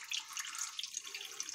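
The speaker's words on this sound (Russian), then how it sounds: "под напором, получается, вот эти пропеллеры крутятся от воды под напором вот так вот." Water sprays under pressure inside a Samsung dishwasher, turning its spray arms with a steady faint hiss and splash that stops abruptly at the end.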